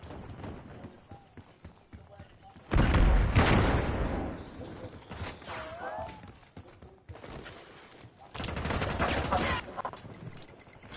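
A flashbang grenade in Call of Duty bursts with a loud blast, followed a few seconds later by more bangs and scattered game noise, with brief voices around it.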